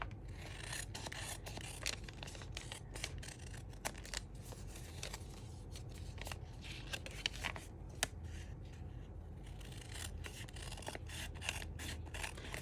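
Scissors cut paper scraps for a journal, making steady, close rustling snips and rubbing scrapes in irregular bursts throughout, with no speech.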